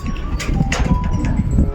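Racing pigeons coming in at a loft: soft wingbeats and flutters with faint bird sounds, under steady background noise and nearby voices.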